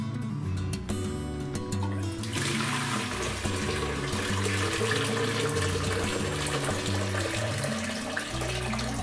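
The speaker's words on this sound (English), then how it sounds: "We're going to crank this valve open and fill it up." Water pours from a valve spout into a container, steady rushing without pause, a loud broadband gush that starts strong and holds, with a low mechanical rumble underneath.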